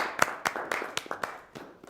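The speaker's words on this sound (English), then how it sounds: "That clap was well deserved" A small group claps at a school board meeting, a short burst of sparse, uneven handclaps that thin out and fade over two seconds, close and alone without talk.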